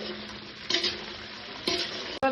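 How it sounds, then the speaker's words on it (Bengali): Okra frying in a pan and stirred with a spatula: steady close sizzle, two scraping stir strokes and a sharp metal clink near the end. "ভেন্ডিগুলোকে লাল লাল করে ভেজে নেবো"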